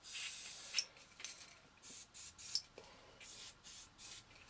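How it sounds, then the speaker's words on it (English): Can of switch cleaner sprayed onto the switches of a Wein stereo tuner amplifier, a series of short close hissing bursts of varying length with brief pauses between, in a quiet room. "we'll grab some switch cleaner and we'll give all them switches a clean"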